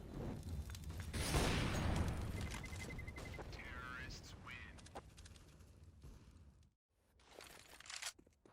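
AWP sniper rifle fire in a CS:GO esports match sounds as a loud, sharp burst early on, followed by fainter in-game noise under excited commentary.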